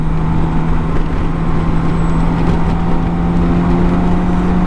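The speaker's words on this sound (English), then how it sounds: "we've moved out of town, so I can accelerate again up through the gearbox" A BMW K1600 GTL six-cylinder motorcycle accelerates up through the gears on an open road, a steady loud engine drone with a constant low hum and wind noise.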